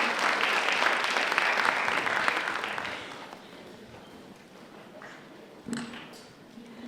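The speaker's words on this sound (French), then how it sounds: "On l'applaudit très fort" Applause from an audience at the grand opening of an Interreg MED programme event fills the first three seconds, then fades into faint room ambience with a few isolated taps.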